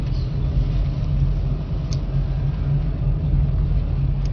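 A car engine holds a steady low rumble with no clear rise in revs, heard from inside the car during a driving lesson on the road.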